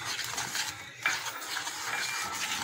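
Cocoa powder and milk being mixed in a bowl, a continuous soft scraping and swishing of a utensil with one small clink near the middle, close and quiet, with no talk.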